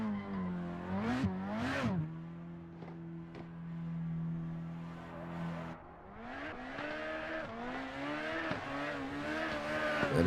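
A small BMW drift car initiates a drift on a hill course during drift competition qualifying, its engine revving hard with rising and falling pitch and tires squealing, loud and close throughout.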